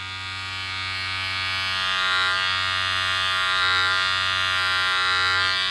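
An electric hair clipper with its guard removed trims stubble around the ears, giving a close, loud, steady buzz that hums evenly throughout.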